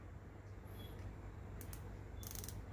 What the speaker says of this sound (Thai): ตรงฝาครอบนี้เขาจะมีตัวหมุนเลยนะ เนี่ยตรงฝาครอบเนี่ย สามารถหมุนปรับได้เลยนะครับ